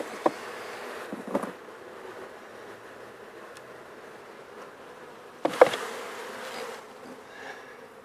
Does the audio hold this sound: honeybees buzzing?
yes